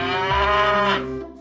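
A cow lets out a single loud, drawn-out moo, close and alone, holding steady before trailing off at the end.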